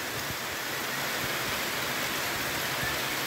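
Rain falling on a farm at midday, a steady dense hiss of drops with faint low patters, continuous and fairly loud throughout.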